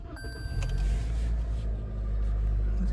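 A 2021 Toyota Corolla Ascent Sport hatch starting up, a short chime and starter whir followed by a steady low idle rumble settling in close by.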